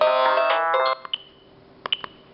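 A phone ringtone sounding for an incoming call, a bright electronic melodic ring for about a second followed by a few short scattered beeps.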